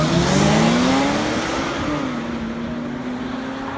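Cars revving hard as they launch side by side in a drag-style race run, one in blue and one in white, with a loud sustained engine roar whose pitch rises and settles as they pull away.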